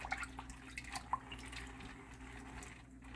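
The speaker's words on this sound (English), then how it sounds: "I'm just gonna use water to clean it a couple times" Peanuts swished and rinsed by hand in a bowl of water, giving soft splashes and a few light drips at close range, with no talking.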